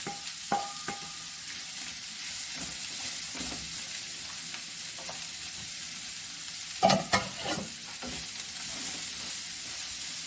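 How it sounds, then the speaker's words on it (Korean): Carrots stir-fried in a hot pan for japchae, a steady close sizzle running throughout with scattered scraping clicks of the utensil and a louder burst of clattering stirs near the seventh second. "이제 당근을 한번 볶아 볼게요"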